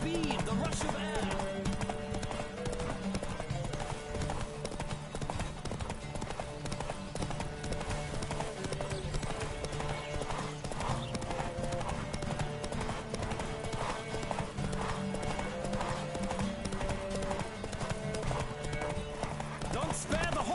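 Steady clip-clop of horse hooves galloping in The Witcher 3, continuous and fairly loud, mixed with game music and a voice speaking over it.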